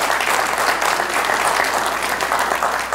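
A church congregation claps together in praise during a sermon, dense steady applause filling the room for the whole stretch.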